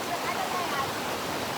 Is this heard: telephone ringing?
no